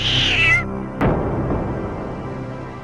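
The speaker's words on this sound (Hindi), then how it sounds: "अरे भाग भाग, जल्दी बिल्ली आ रही है" A cat gives a single fairly loud, close meow at the start, followed by a sharp knock and lingering background noise.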